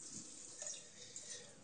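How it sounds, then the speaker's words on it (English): Tap water from a filtered kitchen faucet runs into a cooking pot, a steady soft hiss and splash that stays low and continuous at close range. "the first thing you're going to want to do is get some water in your pot"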